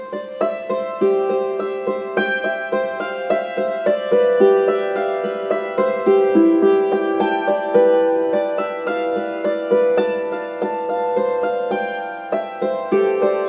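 Hammered dulcimer playing flowing arpeggios on the old hymn Just As I Am, steady ringing struck strings with sustained overtones layering into a continuous shimmer, close and unaccompanied.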